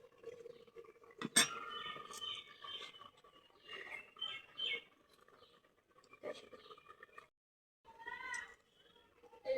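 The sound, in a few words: cooking pot taken off the stove, another wok set down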